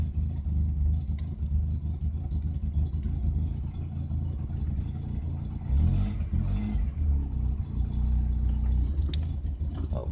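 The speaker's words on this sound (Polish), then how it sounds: "Tak pali OHV-ka bez panewek" A worn Polonez Caro 1.5 GLE OHV engine runs after a cold start with no bearing shells, a steady low rumbling idle with a brief rise in revs partway through, heard close and alone.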